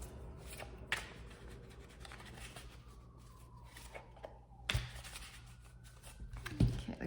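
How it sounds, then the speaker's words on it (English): Tarot cards are shuffled and flipped on a table, with soft rustling and a few sharp slaps and snaps at separate moments, close and fairly quiet, with faint room noise in the background. "You got cards flipping around all over the place."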